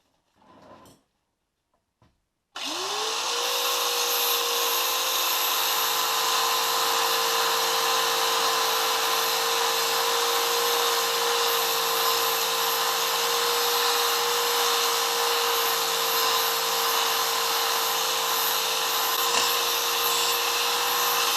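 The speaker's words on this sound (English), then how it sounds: "tidy up with an abrasive flap disc" Power tool running an abrasive flap disc on a metal part of a Villiers-engined Panther Model 50 motorcycle, a loud steady whine that spins up after a brief silence and holds for about twenty seconds.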